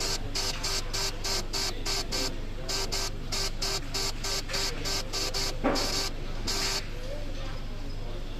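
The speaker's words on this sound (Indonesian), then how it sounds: "Jadi di sini kita bisa memprint current datanya dengan menekan tombol print" The printer on a car diagnostic scanner, used on a Toyota Avanza K3-VE, prints data in quick repeated bursts of high buzzing, a steady stuttering rhythm over a low background hum, close and clear.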